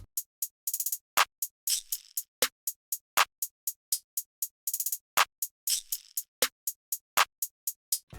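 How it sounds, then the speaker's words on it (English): Trap-style type beat drums, with rapid hi-hats and rolls, a shaker and snare hits filling the gaps between claps, a busy, even, close rhythm with no voices. "Add a shaker and snare to fill in the gaps."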